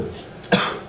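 A single sharp cough from a flu patient suffering chills and sweats, loud and close against quiet room tone, cut off after a brief burst.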